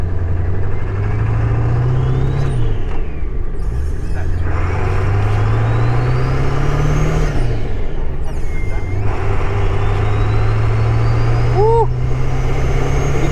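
A 26-year-old Ford Powerstroke diesel truck drives along, its engine droning low and steady with repeated rising pulls as it gains speed between shifts, under road and cabin noise.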